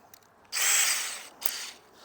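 A power drill with a screw bit spins up in a short loud whir lasting under a second, followed by a brief second burst, close by with no talking.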